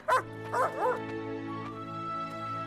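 A sheepdog in an animated American Revolution cartoon gives a few short, close yips and barks in quick succession, followed by a whimpering whine over steady background music.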